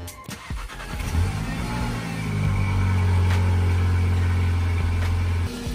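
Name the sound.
Volkswagen Passat engine starting and idling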